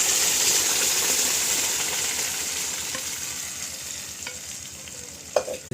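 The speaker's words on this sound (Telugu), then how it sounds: "తిరగమాత" Tempering spices sizzling in hot oil for cucumber dal, a loud steady frying hiss that slowly settles, with a couple of sharp utensil clinks near the end.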